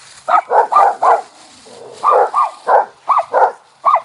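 Small dogs yap in two bursts of rapid, high barks, close by and loud, with a short pause between the bursts.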